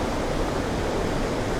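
Waterfall at Rhiwargor in Wales, a steady, dense roar of falling water heard close and continuous, with no other sounds.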